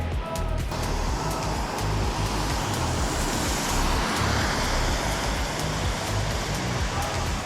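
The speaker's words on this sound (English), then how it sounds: "There's a lot of cars here." Car traffic flows along a rainy city street near a bridge, a continuous loud wash of tyre hiss and engine rumble on wet pavement, with passing vehicles swelling and fading and no one talking.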